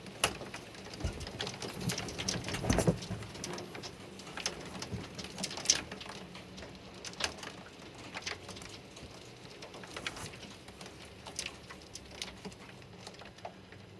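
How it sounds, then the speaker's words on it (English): Dense, irregular patter of small pea-sized hailstones striking surfaces during a severe thunderstorm in Carlisle, Pennsylvania, steady and fairly close, with no voices. "We have hail in Carlisle, Pennsylvania."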